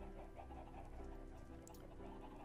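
Chickens cluck faintly in the Minecraft video game, soft fowl calls sitting low under a steady, humming game background throughout.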